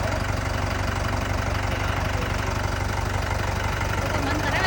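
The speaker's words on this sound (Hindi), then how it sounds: "ट्रैक्टर आ गया बेटा अंदर" Tractor engine running in an Indian village as it pulls in, a constant close diesel rumble with a fast, even knocking pulse, steady in level throughout.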